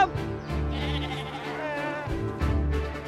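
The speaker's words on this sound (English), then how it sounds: "Time for sheep to go up to Dartmoor." Sheep bleating close by on a Devon farm before going up to Dartmoor, several overlapping bleats with harmonic wavering cries over a low steady rumble, no talk.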